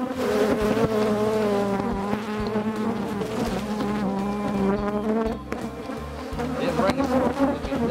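Honey bees swarm thickly around a 5-frame nuc hive box, their continuous droning hum loud and close throughout with a dense, wavering pitch.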